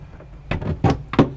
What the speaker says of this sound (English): Shut the side entry door